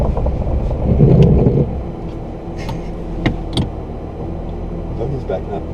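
A Lamborghini reversing in snow during a snowstorm in Summit County, Utah: a low engine rumble and soft mechanical knocks under nearby voices talking.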